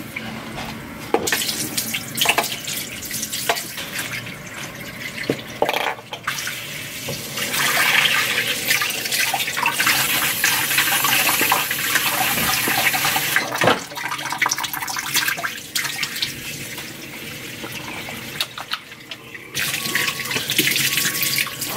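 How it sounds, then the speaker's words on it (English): A kitchen tap runs into a sink while baby bottle parts are washed, a loud continuous gushing stream with splashing changes as the parts move under it. "I'm gonna wash these parts real quick."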